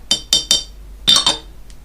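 A spoon stirs green tea in a rattly teapot, giving three quick bright clinks, a pause, then two more ringing chinks and a faint final tap, loud and close.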